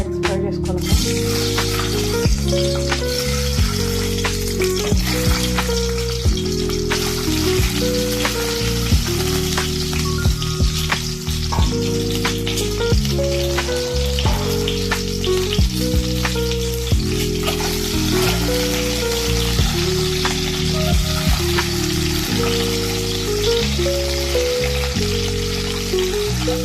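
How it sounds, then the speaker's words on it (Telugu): Eggs frying in heated oil in a pan, a continuous crackling sizzle lasting the whole stretch under steady background music. "ఫస్ట్ ఆయిల్ వేసుకొని ఆయిల్ కొంచెం హీట్ అయినాక మనం ఎగ్స్ ఫ్రై చేసుకోవాలి."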